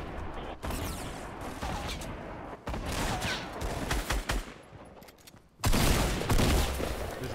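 Sniper and automatic gunfire in the Fortnite battle royale video game, a sustained fusillade of rapid shots and sharp cracks of varying distance, loud throughout with a heavier burst near the end.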